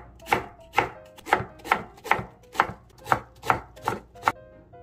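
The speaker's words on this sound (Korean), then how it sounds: "이렇게 반을 잘라서 잘게 잘라 줄 거예요" Knife chopping washed napa cabbage leaves on a cutting board, about ten crisp, evenly spaced cuts at a steady rhythm, close and clear with no talking.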